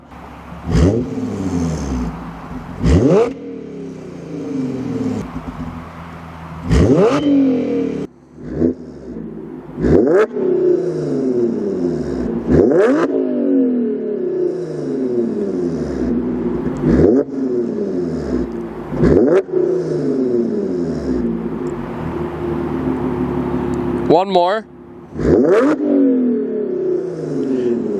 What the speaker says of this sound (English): rev this thing, see how it sounds compared to how it used to